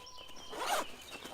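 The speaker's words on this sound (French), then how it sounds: "Et là il suffit d'ouvrir la fermeture éclair." A zipper is pulled open on an Osprey Farpoint 55L travel backpack, one close, quick rasping zip rising and fading in a quiet room.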